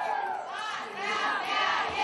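A crowd welcoming returning Universiade medallists at Kazan airport, a continuous roar of cheering voices and shouts that swells and dips, dense and fairly loud throughout.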